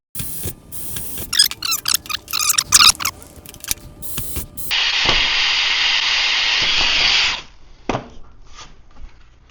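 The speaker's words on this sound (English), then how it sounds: "I'm going to drill it." A power drill bores through a composite gate board. It runs as a steady, loud, grinding whir for a few seconds. Sharp knocks and handling clatter come before it, and quieter rattles follow.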